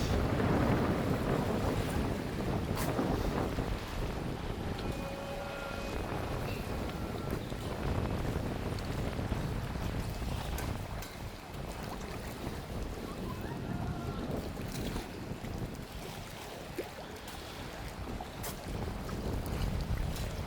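Strong wind blows at Lake Sarangan, a steady loud roar buffeting the microphone with lapping lake waves beneath it, continuous for about twenty seconds with slight swells in intensity.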